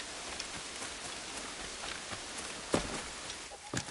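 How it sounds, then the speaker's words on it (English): Heavy rain falling in the 2014 video game Assassin's Creed Rogue, a steady dense hiss throughout with a few sharper thumps and splashes near the end. "That is some heavy rain."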